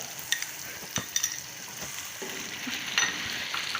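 Potatoes fry with ginger-garlic paste and green chillies in a pan as fried onions are stirred in, with a low steady sizzle and a few sharp scrapes and clinks of a spoon against the pan.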